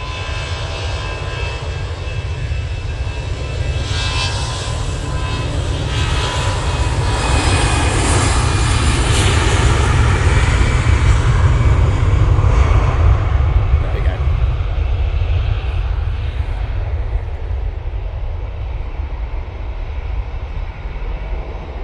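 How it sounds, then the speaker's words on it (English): A Cathay Pacific Airbus A350-900 arriving at an airport produces a loud, sustained jet engine roar with a deep rumble that holds steady throughout and eases slightly toward the end. "A350-900 is about to come into view. It's coming in from Hong Kong with a flight time of 14 hours and 21 minutes"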